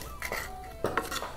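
A kitchen knife chops filling for stuffed cucumbers, making a few light, irregular taps and clatters on the board, faint and close with no speech.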